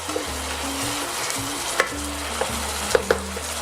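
Shallots simmering down with red wine and brown stock in a pan give a soft continuous sizzle and bubbling, broken by a few sharp scrapes and taps as the mixture is stirred.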